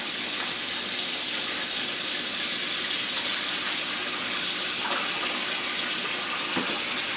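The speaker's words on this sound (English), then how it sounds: "I'm going to fill up half of my sink here with" Warm running water pours steadily from a tap, half-filling a sink, a continuous broadband splashing rush with no voices.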